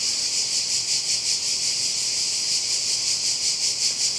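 Loud chorus of cicadas at Lignano beach in Italy, a dense, steady buzzing drone with a gentle pulsing throb that fills the whole stretch without pause, close and continuous.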